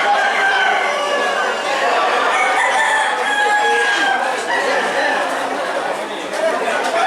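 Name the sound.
roosters crowing at a chicken market in Toraja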